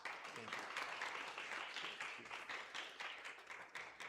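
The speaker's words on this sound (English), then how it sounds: "So please give him a really, really strong, loud round of applause" An audience applauds a speaker at a small business event in Brownsville, Texas, with steady, fairly quiet clapping that holds throughout and sounds like a modest crowd.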